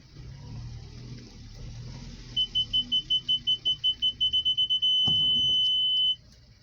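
An electromagnetic parking sensor in a Mazda 626 GF beeps in quickening pulses that merge into a steady continuous tone before cutting off, loud and close inside the car over faint engine hum.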